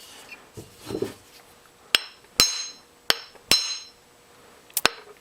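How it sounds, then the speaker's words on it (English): A metal hammer drives a hammer head onto a new handle: five sharp strikes at uneven intervals, each a bright clanging hit with a short metallic ring, close by, after a soft low rustle. "I used a metal hammer to just finalize it."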